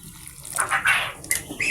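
Water poured onto feed for young ducks, brief splashing and trickling in a few close spurts over quiet background.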